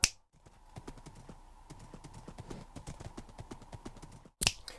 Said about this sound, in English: It's one of the fastest horses I've seen in Minecraft.